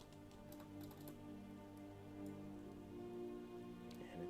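Steady rain patters throughout a World of Warcraft scene on the shores of Darkshore, a soft continuous hiss layered over sustained in-game music tones, with no talking.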